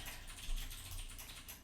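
Steady typing on a silent mechanical keyboard during a coding session, soft muffled keystrokes in a continuous rapid patter, close and fairly quiet, with no voices.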